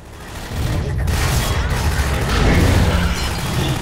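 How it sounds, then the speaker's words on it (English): A grenade blast in Half-Life 2 Episode 1, a loud low rumbling explosion that swells and lingers for several seconds with crackling debris. "Oh no, grenade!"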